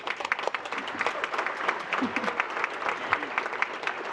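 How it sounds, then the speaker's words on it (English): Steady applause from a sizable crowd at a police and fire awards ceremony, dense clapping filling the whole stretch at an even intensity without a break. "give all of us a round of applause for being representatives of these beautiful communities"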